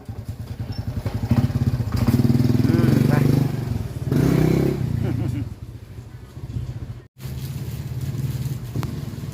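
Motorcycle being ridden, a close engine with a throbbing, pulsing drone that rises and falls as it revs, with a brief cut-out near the middle and voices over parts of it.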